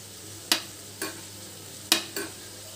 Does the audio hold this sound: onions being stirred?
yes